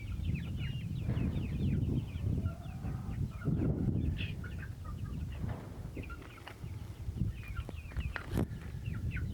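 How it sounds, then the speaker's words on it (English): Several young chickens, pullets living outside, cluck and chirp softly together, close by, over a steady low rumble of background noise. "So we have happy chickens, or happy pullets, learning how to be chickens and live outside"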